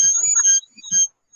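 Brief high electronic beeping, a couple of sharp tones with short gaps, close and fairly loud.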